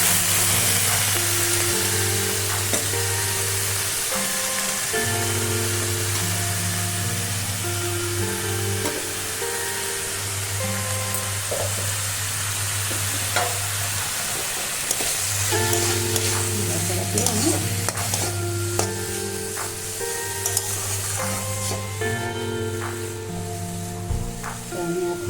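Vegetables stir-fried in a pan for a Bengali lentil chorchori with greens, ahead of the dal going in: a steady sizzle with repeated spoon scrapes and stirring, fairly close, alongside a constant low hum and no talking.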